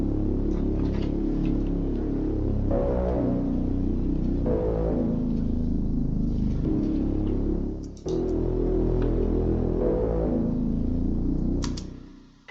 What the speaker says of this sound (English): we have the Reese Bass